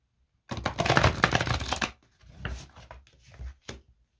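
Tarot cards riffle-shuffled up close in a dense two-second burst, then softer shorter shuffles and a sharp slap as cards slip loose.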